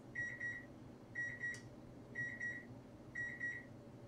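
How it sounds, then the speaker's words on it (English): Electronic beeps come in four evenly spaced groups, each a quick pair of high tones, over a quiet room hum. "Sorry for the beeps."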